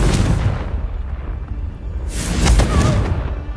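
A Confringo fire spell detonates in Hogwarts Legacy: a loud, booming blast with a rumbling tail, followed by a second burst of explosive crackle a moment later.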